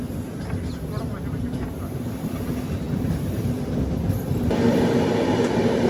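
The Tirumala Express shunts slowly with a steady low rumble of rail wheels and carriages, heard from aboard in a general coach, growing slightly louder toward the end.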